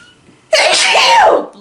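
A single loud, close sneeze bursts out after a quiet moment, sharp at the start and trailing off with a brief vocal tail.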